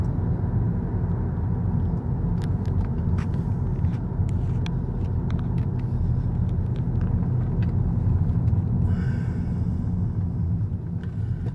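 A Volkswagen Golf GTI drives and slows down into second gear for a speed bump, with a steady, loud low engine and road rumble heard from inside the car throughout.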